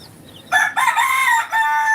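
A rooster crows loudly and close by in one drawn-out call at a farm with chickens, following a brief quieter cluck.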